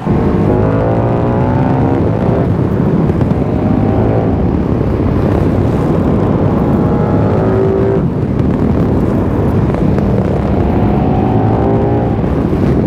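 A KTM 1390 Super Duke R motorcycle accelerating on a busy highway, its engine a loud continuous roar with rising and falling pitch through the gears, heavy wind rush throughout.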